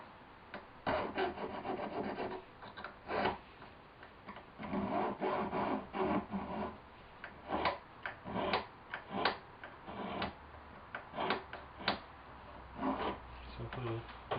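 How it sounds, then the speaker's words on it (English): A needle file rasps against the metal prongs of a white topaz ring, close and fairly quiet, in repeated short back-and-forth strokes with brief pauses between them. "So now with my needle file again, I'm going to shape each of these."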